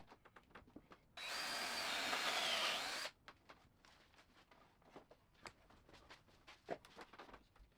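A power drill whines for about two seconds, boring a dowel hole in a 2x4 bench, then stops, leaving faint workshop knocks and handling sounds nearby.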